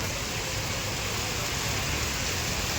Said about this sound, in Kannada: ಗಾಯ್ಸ್, ಫುಲ್ ಮಳೆ ಬರ್ತಿದೆ.